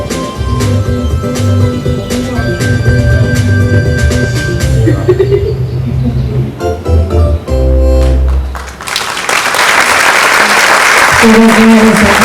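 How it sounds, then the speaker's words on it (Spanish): Music plays, then a crowd at a disability congress bursts into loud, sustained applause toward the end. "Señores, aplausos"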